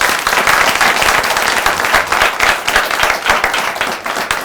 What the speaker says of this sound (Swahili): wapi makofi ya Alvan?